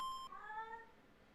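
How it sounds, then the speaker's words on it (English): A small cat gives a short, thin meow after a brief electronic beep, then the call trails off into a quiet room. "Can you hear him meowing?"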